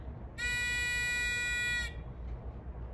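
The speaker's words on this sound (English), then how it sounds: "it'll light up and make an alarm" An alarm buzzer on a littleBits Inventor Kit sounds as a single loud, steady, high-pitched electronic tone for about one and a half seconds before cutting off.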